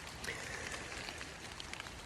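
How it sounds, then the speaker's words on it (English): Constant hissing patter of rain mixed with sleet striking surfaces nearby, dense and even throughout, with no talking. "All the noise in there is rain, and as you can see, it's turned into a little bit of sleet."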